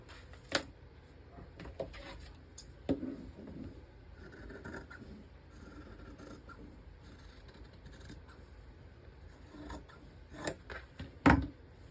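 Scissors cut fabric for a Halloween porch goose dress. Quiet, scattered snips and scraping come at irregular intervals, with a louder cluster near the end, over a faint room hum and no speech.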